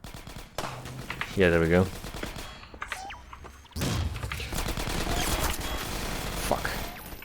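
Gunfire in the video game Half-Life 2: Episode One, loud rapid bursts of shots with an early heavy burst and sustained firing later, while a person talks briefly over it.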